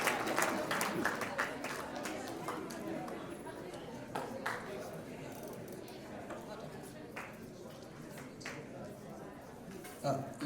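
A crowd at a South Sudanese students' cultural day in Kigali claps for the association chairman, a light, scattered patter of hands heard at moderate distance under a steady murmur of voices.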